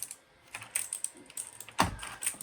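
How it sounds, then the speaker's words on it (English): Several keys on an older computer keyboard being pressed together and singly in a rollover test, a scattered run of close clacks with one heavier thump near the end. "So I go to keyboard tester."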